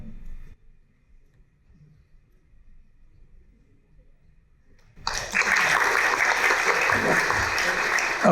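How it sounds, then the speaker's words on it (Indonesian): Studio audience bursts into loud applause at a creative-themed talk show, starting suddenly after a quiet stretch and continuing as a dense, steady wash of clapping close to the microphones. "Kita berikan aplaus."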